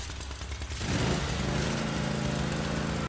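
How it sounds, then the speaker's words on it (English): Lawnmower-like engine in the horror game Amnesia: The Bunker, a loud, rough, sputtering mechanical drone that swells in after a moment, runs steadily and then cuts off abruptly. "Fucking lawnmower."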